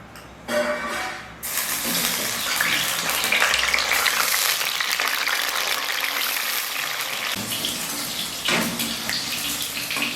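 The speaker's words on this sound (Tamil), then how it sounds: "இப்போ ஃபஸ்ட்டு நம்ம கத்திரிக்காயை மட்டும்தான் வதக்கி எடுக்க போகிறோம்" Eggplant sizzles and crackles in hot oil, a loud steady frying hiss close by, with a brief stir or shuffle partway through.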